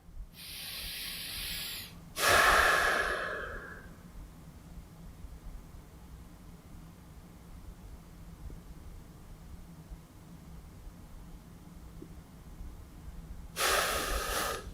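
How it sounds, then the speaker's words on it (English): A person takes a slow, deep breath: a hissy inhale near the start, then long quiet, with another breathy exhale or inhale toward the end, close and fairly soft, with no talking. "So another nice big deep breath."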